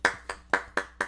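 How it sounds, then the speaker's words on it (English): Five distinct, evenly spaced claps ring out close by in a quiet hall at a cello student recital, each a sharp, bright smack that decays quickly before the next. "Another big round of applause for Carolyn."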